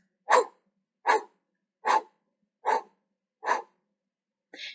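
Five forceful open-mouthed breaths blown out in an even rhythm, each a short airy whoosh, followed by the start of a sixth, close and clear with silence between.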